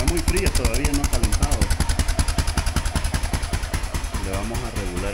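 A cold Honda XR650L enduro motorcycle's single-cylinder engine runs close by with a fast, steady thumping beat, while someone talks over it throughout.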